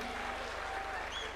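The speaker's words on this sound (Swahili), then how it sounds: "Tuwapigie makofi." Audience at a political party meeting applauding, a steady patter of clapping from a crowd, fairly faint and distant, with a low hum beneath.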